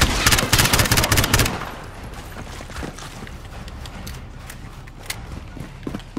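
Loud rapid bursts of automatic gunfire for about a second and a half, then scattered distant shots and battle noise in the video game Call of Duty: Modern Warfare (2019).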